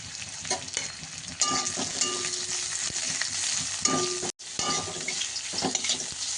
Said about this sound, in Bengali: এর মধ্যে দিয়ে দিচ্ছি কেটে রাখা পেঁয়াজ, রসুন, কাঁচা লঙ্কা।